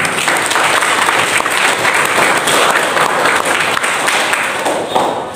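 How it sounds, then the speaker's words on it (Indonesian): Loud, sustained applause from a crowd, many hands clapping at once without pause for several seconds. "Tepuk tangan untuk semuanya."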